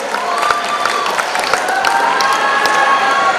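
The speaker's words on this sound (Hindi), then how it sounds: "जोरदार तालियां इन चारों परफॉर्मर्स के लिए।" An audience at a closing-night festival prize ceremony applauds and cheers for four performers, a loud continuous wash of clapping mixed with crowd voices and high-pitched shouts.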